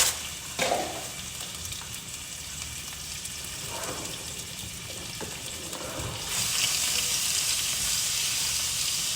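Shrimp fry in a pan with a steady close sizzle and a few sharper crackling bursts, the hiss swelling louder and brighter toward the end.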